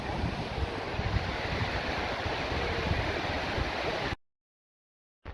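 Skogafoss waterfall in Iceland, a dense constant roar of falling water mixed with wind buffeting the microphone, loud and steady for about four seconds before cutting to silence.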